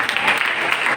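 An audience at a college Quaid Day event in New Karachi applauding, a continuous, fairly dense patter of clapping filling the whole short stretch.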